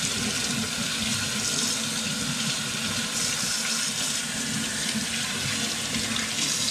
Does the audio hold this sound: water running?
yes